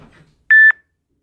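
A telephone ringer gives one short, loud electronic tone, a steady pitched beep lasting about a quarter second, then silence.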